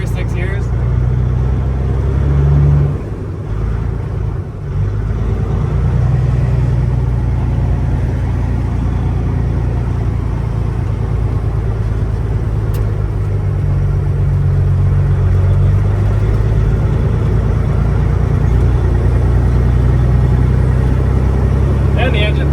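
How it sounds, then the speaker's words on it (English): A Peterbilt 379 truck with a Cat engine runs with its engine fan stuck on, a loud steady low rumble and roar that continues throughout, with people talking over it. "the engine fan's stuck on, so that makes it a lot harder to shift"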